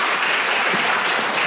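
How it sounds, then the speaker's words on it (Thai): Applause from a seated audience at a Thai genomic medicine seminar, a brief, dense wash of clapping at steady loudness with no talk. "ขอเสียงปรบมือให้อาจารย์มานพด้วยครับ"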